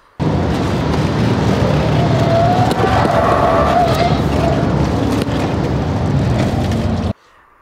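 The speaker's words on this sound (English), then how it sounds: "when I was on the back seat of a supercharged E39 M5 and we went quite sideways through Schwedenkreuz" Supercharged BMW E39 M5 sliding sideways through Schwedenkreuz at the Nürburgring, heard from inside: a loud, sustained engine roar with tyre squeal for about seven seconds, then an abrupt cut to near silence.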